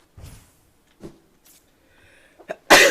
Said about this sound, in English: Oh my goodness, if I have another sneezing fit